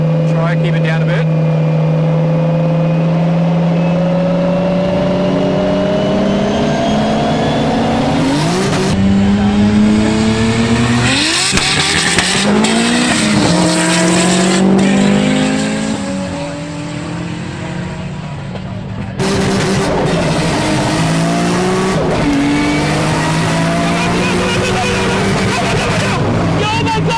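A BMW E90 335i with the N54 engine revs hard through the gears at a Queensland roll race, loud and close, its pitch climbing and dropping with each shift while excited voices talk over it.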